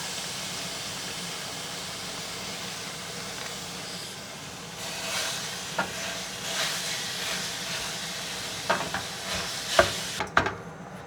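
Ninety-three percent lean ground beef browns in a pan with a steady hiss that swells into louder sizzling partway through, broken by intermittent clinks and scrapes of stirring.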